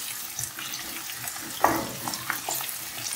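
Vegetables for upma frying in a pan give a steady, close, hissing sizzle. A brief scrape of stirring cuts through midway.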